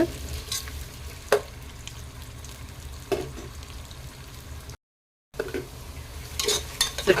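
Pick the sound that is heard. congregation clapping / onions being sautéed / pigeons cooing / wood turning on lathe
onions being sautéed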